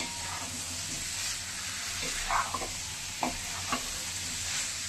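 Taro stir-frying with cooked-down spices in a pan for a Bengali taro and shrimp curry, a steady hissing sizzle close by, punctuated by a few scraping stirs of a spoon.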